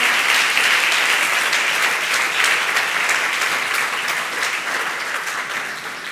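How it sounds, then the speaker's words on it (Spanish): A church congregation claps together in dense, steady applause during a sermon, loud and continuous, fading slightly toward the end. "¿Quieres aplaudir conmigo? Vamos, iglesia, vamos."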